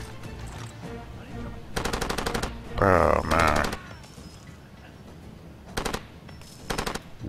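Bursts of automatic gunfire in the shooter game Far Cry 2: several rapid rattling volleys, the loudest cluster near the middle, with a man's brief remark under the shooting.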